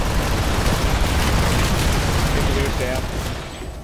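Thundering tank mine and grenade blasts in a multiplayer shooter merge into a loud, continuous barrage of booms and rumble that fades slightly toward the end, with voices talking over the chaos.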